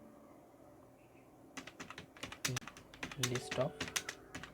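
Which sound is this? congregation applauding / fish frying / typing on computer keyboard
typing on computer keyboard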